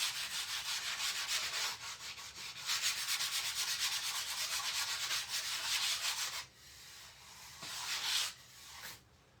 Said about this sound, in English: I am going to sand over it